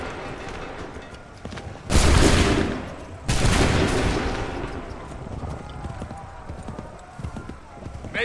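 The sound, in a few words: musket volley firing in the video game Assassin's Creed III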